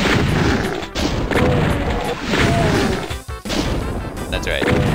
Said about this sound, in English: You fire your fireballs.